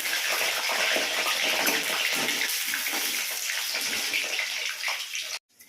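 Potatoes frying in hot oil in a wok, a loud, steady, close sizzle that continues throughout and cuts off abruptly near the end.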